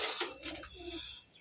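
Pigeons coo in a soft, continuous, throaty murmur heard close by, with overlapping low burbling calls and no speech.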